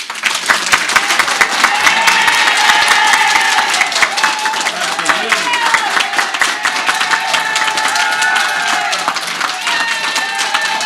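Sustained public applause fills a council meeting chamber, dense clapping from many hands rising early and continuing steadily for several seconds, loud and close.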